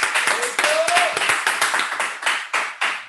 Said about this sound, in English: Big round of applause for Chef Rachel out there.